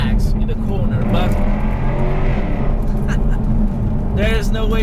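Jaguar F-Type R engine at full throttle through a corner on a dry road, a loud sustained roar with rising pitch heard from inside the car, blended with road noise.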